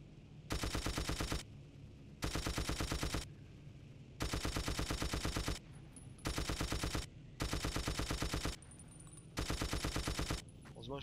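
Rapid automatic gunfire in Battlefield 1942 on the Kharkov map, six bursts of about a second each separated by brief pauses, loud and close, with faint background game noise between them.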